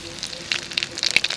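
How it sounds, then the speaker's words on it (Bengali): Cumin seeds dropped into hot oil for tempering, giving a quick crackling sizzle with sharp pops bursting over a steady hiss. "জিরে ফোড়ন দেবো।"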